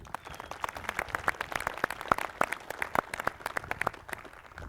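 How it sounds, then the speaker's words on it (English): Conference audience applauding volunteers at a security keynote, a steady patter of many hands clapping at moderate distance, fairly quiet and sustained throughout with no talking over it. "a round of applause for our volunteers"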